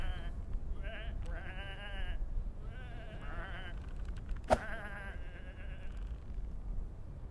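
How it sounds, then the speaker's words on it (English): Several sheep bleating in the video game Whateverland, a string of close, wavering bleats overlapping one another, with one sharp clunk partway through and no talk. "Come on, these are just sheep."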